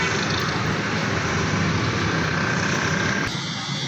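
A 2018 Honda City petrol engine with a tappet and spark plug fault runs at idle and is revved up slightly. It gives a steady, close, loud mechanical hum with no speech, and the sound shifts a little near the end.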